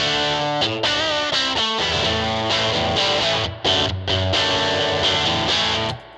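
A heavily overdriven electric guitar through a Fender Princeton Reverb tube amp at full volume, played loud, thick distorted chords ringing out with sustained tones and brief gaps, no voices.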